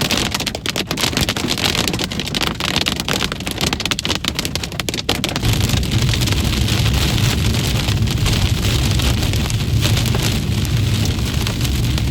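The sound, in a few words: large hail battering a storm-chasing vehicle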